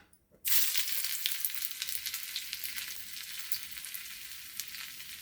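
A sharp sizzle bursts in as sliced ginger hits hot ghee, then settles into a steady, crackling fry with small pops, close and fairly loud.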